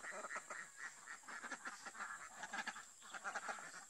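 Geese on a farm pond give off a run of soft, overlapping honks and quacking calls, faint and somewhat distant over a steady background hiss.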